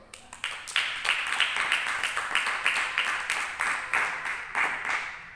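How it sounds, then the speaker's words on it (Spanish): A church congregation claps in a fast, steady rhythm, with distinct hand claps repeating evenly and growing fuller after a quieter start, keeping up a lively beat for several seconds. "Dale un aplauso al Señor"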